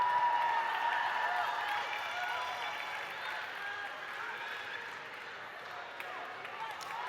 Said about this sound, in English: Really cheer for them